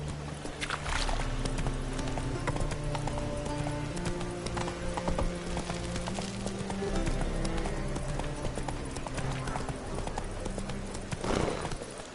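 Hoofbeats of the horse Roach clip-clop steadily in a video game, with an occasional whinny, over a continuous bed of game music and ambience; a voice speaks briefly near the end.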